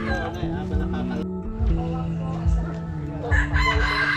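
Roosters crow in the background while people chat close by, the calls rising over steady conversation.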